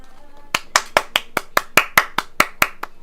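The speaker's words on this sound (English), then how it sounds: "Applause." Applause comes as a steady run of sharp, evenly spaced claps, close and fairly loud, like one or a few pairs of hands clapping alone.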